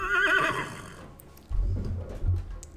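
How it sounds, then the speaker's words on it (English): A horse neighs loudly up close in a long harmonic whinny lasting about a second, followed by low rumbling thuds and snorting sounds with no talking. "Oh, the horse is here"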